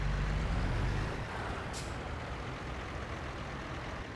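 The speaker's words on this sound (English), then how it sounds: "So let's go ahead and detach the trailer." Detaching a truck's trailer: a loud idling truck rumble eases off after a second, then a single short burst of air-brake hiss follows over steady engine noise.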